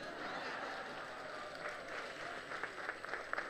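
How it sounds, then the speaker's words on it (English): Applause from an audience at a formal awards ceremony in Barbados, a steady broad wash of clapping that swells slightly near the end, with faint voices underneath. "Now, the last round of applause, please do give it to me"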